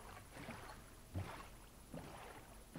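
A boat gliding through water in a video game, soft rhythmic swishes and gentle sloshing that rise and fall every second or so, faint and calm with no voices.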